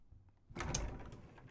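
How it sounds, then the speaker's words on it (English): A solid pocket door in a Thor Omni or Magnitude Super C diesel motorhome bedroom slides shut, a brief soft whoosh and thud after a half-second of near silence, trailing off quickly. "It is a solid pocket door and it closes fully"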